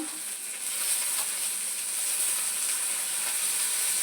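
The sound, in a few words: chopped onions and green chillies frying in oil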